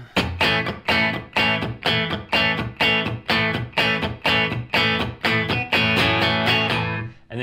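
Palm-muted eighth-note strumming on a Telecaster electric guitar, the intro to a song, sharp percussive chunks in a steady even rhythm, close and alone.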